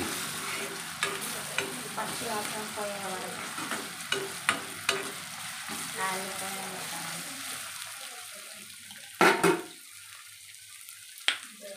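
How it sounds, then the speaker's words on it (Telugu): Ginger-garlic paste masala frying in a pan while prawn fry is cooked, a steady sizzle with repeated scraping stirs of a spoon, quieting toward the end with a few sharp clinks. "పచ్చి వాసన వెళ్ళేంత వరకు కలుపుకోవాలి."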